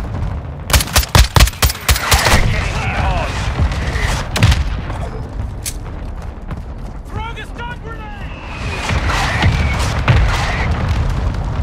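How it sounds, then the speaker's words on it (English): Mortar strike explosions in a first-person shooter game, a burst of loud booming blasts in quick succession near the start, then scattered heavier impacts and gunfire rumbling on throughout, with game voices talking over the din. "Hostile mortar strike incoming"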